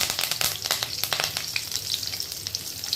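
Green chillies sizzle and crackle in hot oil with cinnamon, cardamom, cumin and a dried red chilli as a tempering for tomato masala rice. The frying hiss is steady and close, with sharp pops and light stirring.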